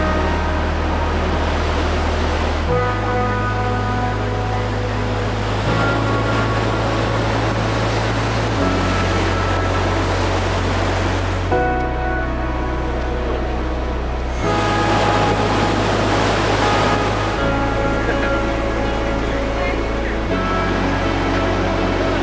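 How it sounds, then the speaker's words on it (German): Big ocean waves breaking on a surf beach as a hurricane approaches, a loud continuous roar of surf with surges every few seconds, steady and close, with no talking. "Also die Wellen, die hier reinkommen, sind richtig groß."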